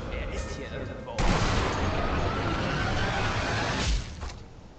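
Gunfire in the Sniper Elite 2 video game at the V2 base: a sharp blast opens a sustained stretch of loud, dense firing and rumbling that cuts off after about three seconds, leaving quieter background.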